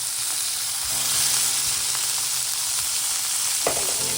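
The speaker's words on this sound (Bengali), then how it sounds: "আমি বেগুনগুলো ভেজে নেব" Eggplant slices fry in a pan of oil, a dense, steady sizzle filling the whole stretch, with a faint low hum beneath and one short clatter near the end.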